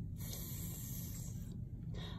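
A voice imitates the steady whispering hiss of a lawn sprinkler, a soft, continuous breathy shush lasting a couple of seconds.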